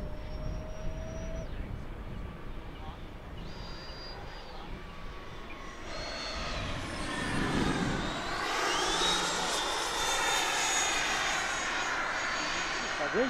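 A radio-controlled T-33 model jet roars past with a turbine whine that swells and peaks as it flies close by, then fades, outdoors at a flying field.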